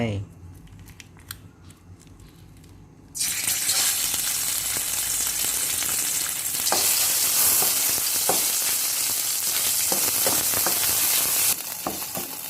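Northern Thai red curry paste hits a hot pan for pork red curry and stir-fries with a loud, bright sizzle. Scraping and stirring strokes follow, starting after a quieter opening of small clicks.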